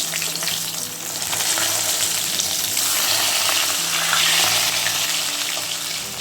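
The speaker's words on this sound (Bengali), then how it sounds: "এই মাছগুলো আমার প্রায় ভাজা হয়ে গেছে আর একটু লাল লাল করবো" Fish fry in hot oil in a home kitchen pan, a loud, continuous sizzle with crackling spatter and faint stirring throughout, no voices.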